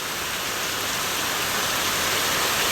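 Heavy rain pours steadily during a backyard flood, a dense, even hiss with no breaks, close and loud, and no voices.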